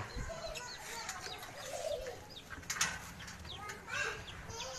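Pigeons coo softly amid scattered chirps and rustling, a busy flock nearby with chickens and chicks, faint background noise.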